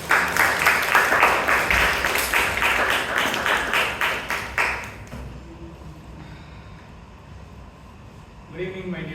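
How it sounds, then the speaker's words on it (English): At a Toastmasters club meeting in Bangalore, an audience claps in a dense burst of applause that fades out after about five seconds, followed by quiet room noise and a voice beginning to speak. "Give him a big round of applause."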